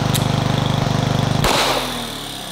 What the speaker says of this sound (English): let's go ahead and see how many rounds it takes to kill a running lawnmower.